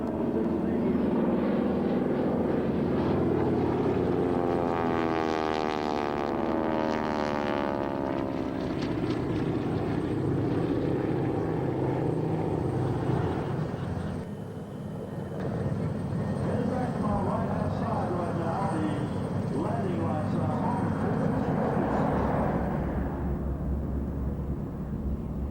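Southern Nights aerobatic aircraft roar low over Port Phillip Bay and the Avalon airstrip at an airshow, a loud sustained engine drone that sweeps past with a shifting pitch and fades briefly before building again, under a commentator's talk.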